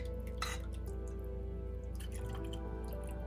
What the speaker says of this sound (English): to pour the milk into my pot without pouring it out of the pot and spilling it all over the place